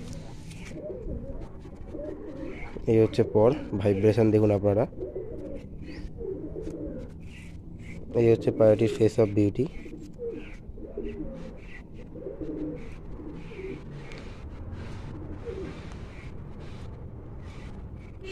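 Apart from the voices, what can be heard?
pigeons cooing in a loft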